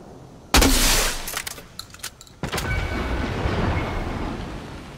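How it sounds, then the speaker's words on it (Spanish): Loud bursts of Fortnite gunfire, a sharp volley followed by rapid shots and a lingering rumbling echo. "vienen tiros"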